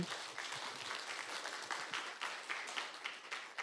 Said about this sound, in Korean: 백봉기, 윤철, 정석곤 수필가님께도 다시 한번 큰 박수 부탁드리겠습니다.